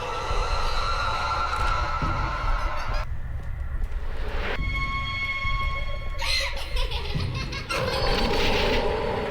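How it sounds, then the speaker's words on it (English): A monster in the horror video game Dreadout lets out loud, harsh donkey-like brays and honking cries in repeated bursts, with game sounds shifting between them. "I don't know why she makes donkey noises."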